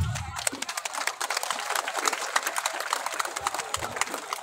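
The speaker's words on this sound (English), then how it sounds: "Let's applaud them." Audience applause for athletes at the closing ceremony of a national cross-country event: dense, steady clapping from a crowd, moderately loud and continuous throughout, with a brief low rumble at the very start.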